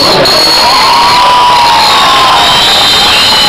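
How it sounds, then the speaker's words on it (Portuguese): An excited graduation audience in a hall cheers and shouts, a loud sustained roar of voices with high whoops rising over the crowd, steady throughout. "eu nunca vi uma plateia tão animada como essa"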